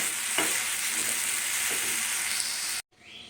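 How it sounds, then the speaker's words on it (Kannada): Flax flowers stir-fried and roasted in a pan, with a loud steady sizzle and a few scraping stirs that stop abruptly near the end. "ಈಗ ನೋಡಿ ಇದು ಹುರಿದಿದ್ದಾಯಿತು"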